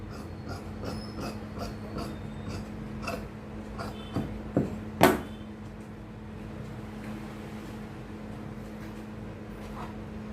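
Scissors cutting chudithar fabric at a tailoring table, a rapid run of crisp snipping clicks in a regular rhythm, with a few louder sharp cuts near the middle and a quieter low hum beneath.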